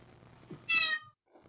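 A cat gives a single clear meow, short and fairly close, over a faint, quiet background with a soft murmur just before it.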